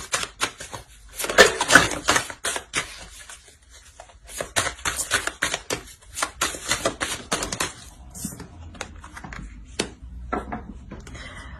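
Tarot cards being shuffled by hand, a run of quick crisp riffling bursts and clicks that come in clusters with brief pauses, close and moderately loud, with no talking.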